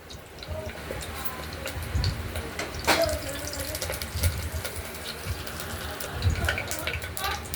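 Whole panch phoron spices, with bay leaf and dried red chilli, sizzle in hot oil inside a pressure cooker, giving a steady close hiss broken by scattered crackles and pops.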